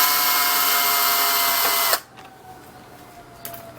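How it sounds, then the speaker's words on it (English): An 8mm power driver whirs loudly for about two seconds as it removes a seat bolt on a Kawasaki KLX140L dirt bike, then cuts off, leaving a faint tick and a quiet hum. "Yeah, you're going to take this bolt off."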